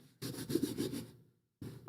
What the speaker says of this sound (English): scenes of you scraping with all the noise